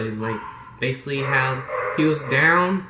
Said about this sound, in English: Sorry if you hear my dogs barking, they're acting crazy, like always.